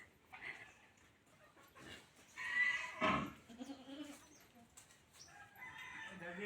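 A goat bleats a few times in a farmyard while it eats leaves, with loud, close calls in the middle and other animal noises faintly around it.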